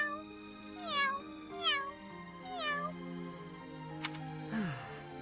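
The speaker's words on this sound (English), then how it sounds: "Well, this cat's happy" A cat in the video game Fire Emblem: Three Houses meows three times in a rising-falling pattern over steady game music, followed by a short click and a swooshing effect.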